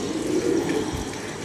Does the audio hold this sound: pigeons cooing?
yes